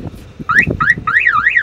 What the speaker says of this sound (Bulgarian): Това е клаксона.